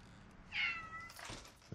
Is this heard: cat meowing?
yes